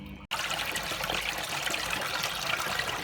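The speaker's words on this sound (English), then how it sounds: "I better deal with this little leak over here." Water trickles and splashes steadily from a small leak on an AEG Silent System washing machine during a cotton wash, a loud continuous close-up dribble after a brief quiet start.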